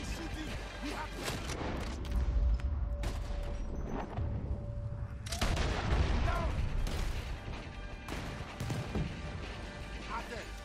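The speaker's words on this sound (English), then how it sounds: "He's shooting!" Gunfire in the Red Dead Redemption 2 video game: loud, sharp shots and heavy booming blasts in irregular bursts over rumbling battle noise, with shouting voices mixed in.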